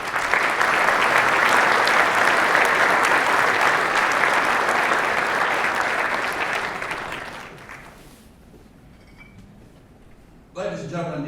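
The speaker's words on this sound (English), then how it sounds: "Let's give these folks a round of applause." A big round of applause from the crowd at a veterans dinner, dense and sustained for several seconds before fading out, followed by a brief quiet and the start of a voice over a speaker system.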